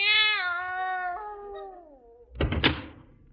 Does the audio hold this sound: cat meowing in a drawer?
yes